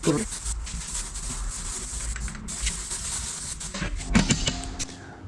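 A wooden door being sanded smooth, a steady rasping scrub that runs continuously at close range with a few brief harder strokes.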